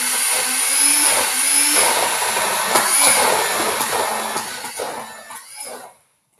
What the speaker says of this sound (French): Il faut vraiment le mixer.